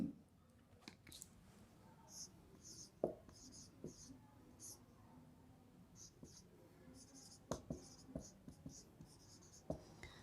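A math question is written out by hand with a pen scratching on paper in short strokes and taps, quiet and close, with a few faint breathy sounds between strokes.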